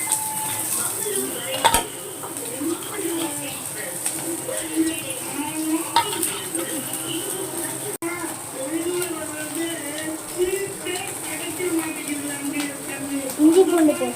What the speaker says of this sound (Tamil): வெங்காயம் போட்டோம்.